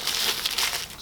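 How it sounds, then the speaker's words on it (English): Tissue paper crinkles and rustles steadily as candles are wrapped in it, a soft, close, continuous papery crackle with no voices. "Wrap up our candles in the tissue."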